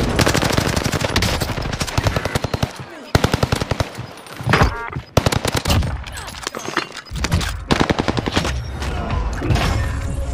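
Rapid automatic gunfire in a Fortnite match, dense bursts of shots with brief gaps between volleys, loud and close throughout.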